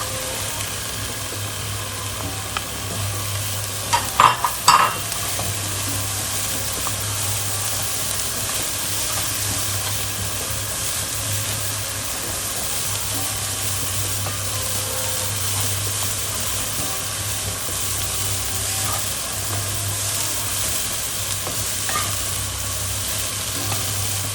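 Chopped green pepper with grated carrot frying in a pot for chakalaka, a steady close sizzle with a brief burst of stirring clatter near the start and a low hum running underneath.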